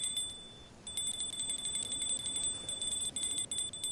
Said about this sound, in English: I got a bell going off. Oh, I got a pole going off.